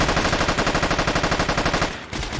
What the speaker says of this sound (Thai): ยิงยังไงให้โดนอ่ะแต่เล็งมันก็ไม่ถูกลำกล้องแล้ว